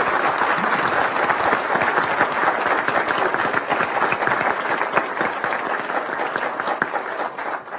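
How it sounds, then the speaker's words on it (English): Audience applause for mayoral candidates at a debate in Madison's Central Library; a room full of people clapping steadily and fairly loudly, fading slightly at the end. "Big round of applause for our candidates tonight."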